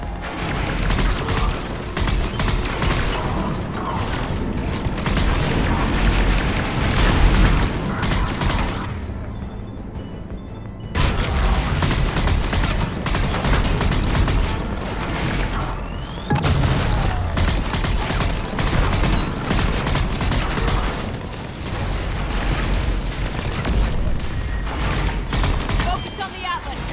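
Heavy cannon and weapons fire from a Mass Effect 3 battle, repeated booming blasts and mechanical clatter filling the scene, with one short break of near silence partway through.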